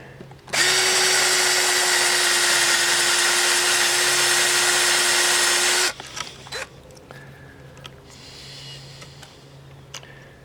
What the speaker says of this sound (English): I won't drill any more there.